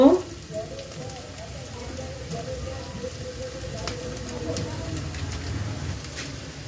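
Steady sizzling of potatoes and peas frying in hot oil before spices are added, a continuous crackling hiss that stays close and even throughout.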